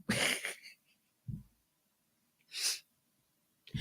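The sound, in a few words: person sneezing on a microphone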